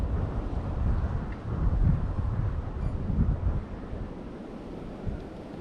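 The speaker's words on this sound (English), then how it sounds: "It's still pretty darn windy today." Wind buffets the microphone beside a creek on a blustery fishing day, a steady, close, rumbling roar with surging gusts and no voices.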